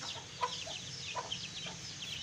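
Aseel roosters and hens cluck softly alongside their chicks in a small backyard setup, with scattered faint clucks and thin peeps coming and going at a modest distance.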